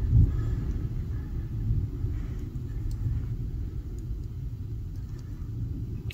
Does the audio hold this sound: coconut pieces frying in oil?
no